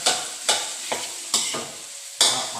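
Rice with egg scraped and tossed in a hot pan with a spatula, several rhythmic stir-frying strokes with a sizzling hiss between them.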